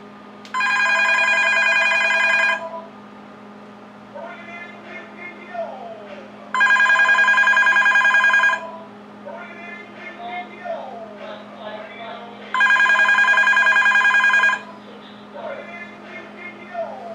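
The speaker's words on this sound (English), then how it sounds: "I'm going to go ahead now and call the phone so you hear the ringer." Ringer of an early-1990s Panasonic Easa-Phone telephone, three long electronic trilling rings of about two seconds each, loud and close, separated by pauses with a faint background hum and light sounds.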